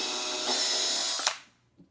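A handheld power drill boring holes during car detailing runs at a steady whine for over a second, then cuts off and spins down, leaving quiet with a faint clunk at the end.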